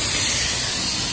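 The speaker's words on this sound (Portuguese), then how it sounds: "as verduras que demoram mais eu coloquei na panela de pressão, daqui a pouco eu vou desligar" Steady, loud hiss of steam escaping a pressure cooker on the stove as vegetables cook, continuous and close with no talking.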